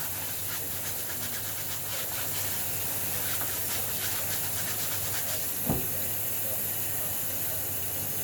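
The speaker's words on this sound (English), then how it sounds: "Rinse it off" Water from a kitchen tap runs steadily onto a soapy juicer being rinsed, a continuous broadband hiss throughout with one brief knock near the end.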